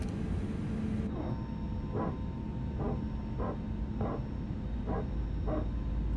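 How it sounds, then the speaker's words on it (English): A power transfer unit on an Airbus A320neo in X-Plane 12 gives off a rhythmic barking, about eight evenly spaced yelps over a steady aircraft engine hum. "Get the PTU kicking in. That's that barking dog that you can hear."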